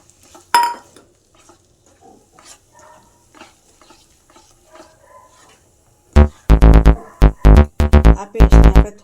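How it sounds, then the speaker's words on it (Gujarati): Cashew and onion paste for kaju curry goes into a hot pan, with soft stirring and faint scraping, then loud, rhythmic clanking bursts of a spoon stirring against the metal pan, close up with no talk. "આ પેસ્ટને આપણે થોડી વાર ભરવા દઈશું।"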